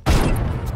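A sniper rifle headshot in Overwatch 2 lands as one sharp, loud gunshot crack with a booming tail that decays over most of a second, heard alone without voices.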